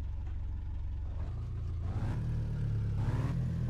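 A car engine idles and revs in the driving game My Summer Car, a steady low rumble that swells into a couple of rising throttle pushes, close and fairly loud with no talk over it.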